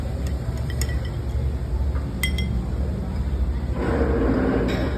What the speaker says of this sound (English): Give her a quick stir.